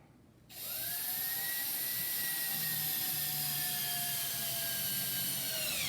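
A power drill whirs up and runs steadily while driving a screw into a wrought iron spindle shoe on a stair railing, its high motor whine close and continuous, with no speech.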